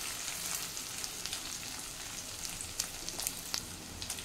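Something fries steadily in a pan before tamarind juice is added, a continuous close sizzle with small pops and crackles throughout and no voices.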